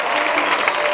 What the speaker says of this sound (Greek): Πιο δυνατό σας χειροκρότημα.